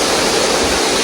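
The San Jose Falls in Tandag City roar loudly and steadily at close range, a dense, continuous rush of falling water with no other sounds.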